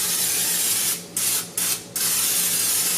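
Loud continuous hiss of a cooking oil spray can coating a pan, broken by three short pauses between bursts, close and steady.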